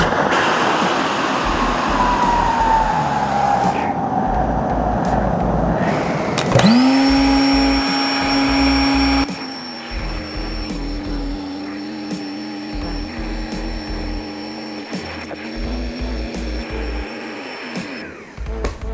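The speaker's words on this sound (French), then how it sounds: "On a seulement qu'à mettre à la fonction deflate. L'air, elle va sortir, mais vraiment au complet" Built-in electric pump of a 22-inch-high Etekcity queen air mattress running on deflate, a loud steady mechanical whir that shifts pitch and settles into a lower, quieter hum as the air is drawn out.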